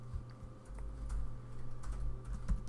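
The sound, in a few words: typing on a computer keyboard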